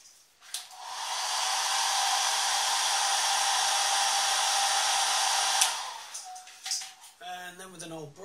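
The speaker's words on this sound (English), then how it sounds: "I'll just quickly use the hairdryer to dry it on." A hairdryer blows steadily for about five seconds to dry paint pigment, a loud even whoosh that starts and stops abruptly, followed by a brief stretch of speech.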